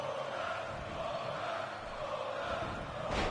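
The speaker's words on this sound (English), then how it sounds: "Crowd going wild for Goldust." A packed arena crowd in the WWE 2K16 wrestling game roars for Goldust, a dense, sustained wash of cheering that swells slightly near the end, with no commentary over it.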